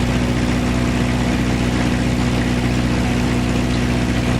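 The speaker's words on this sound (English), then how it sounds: "testing the mags. One mag off, one mag off, both mags on. Dropped about 75 RPM on each mag." A small aircraft's piston engine runs during a magneto check on a cold day at an airfield, giving a steady, loud, even drone with no break in the engine note.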